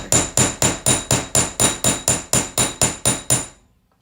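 A hammer strikes jewelry wire about a dozen times in a steady, even rhythm, each blow sharp, loud and close, then the tapping stops and fades out.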